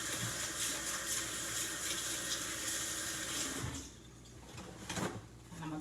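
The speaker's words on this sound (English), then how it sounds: "Let me wash my hands." Water runs steadily from a kitchen tap while hands are washed beneath it, a close rushing splash that drops off as the flow is shut, leaving a few drips and faint handling noises.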